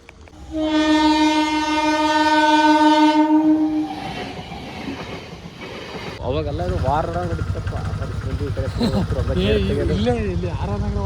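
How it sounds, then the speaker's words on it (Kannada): A loud, sustained train horn blasts for several seconds, then the rumble and clatter of a passing train continues with voices talking over it. "ಯಾರಿಗೆ ಗೊತ್ತು ಟ್ರೈನ್ ಯಾವ ಸೈಡಿಂದ ಬರುತ್ತೋ"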